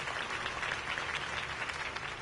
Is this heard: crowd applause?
yes